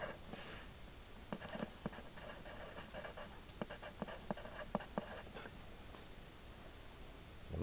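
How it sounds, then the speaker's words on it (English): A pen scratches across paper while trigonometry problems are worked out, producing faint, irregular strokes and taps over a steady background hiss, with no voices. "so I'm going to write that right here"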